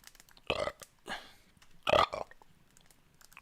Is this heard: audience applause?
no